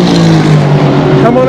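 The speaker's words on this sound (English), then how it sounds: "That's an R8. Or is it an Aston? Aston Martin!" An Aston Martin sports car passing at the Nürburgring Nordschleife during a race event, a loud close engine roar sweeping by briefly with a rising pitch at the end.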